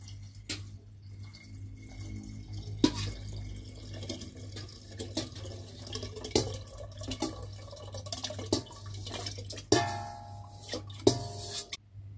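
Water is poured into a fermentation tank while making sapodilla caramel wine, giving irregular splashing, dripping and trickling sounds with sharp clinks, close up over a low steady hum and with no talk.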